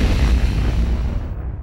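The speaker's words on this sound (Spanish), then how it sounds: "Esa explosión produjo una nube blanca" Ammunition depot explosion at a military brigade, with leftover shells and war material going off: a loud, sustained low rumbling roar that slowly fades, heard alone.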